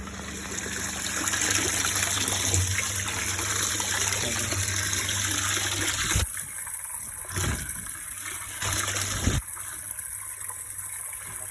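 Liquid pours into a tank for spraying a corn crop, a steady gushing stream for several seconds, then the flow cuts to short, splashing bursts with quiet gaps between, heard close with a faint hum behind.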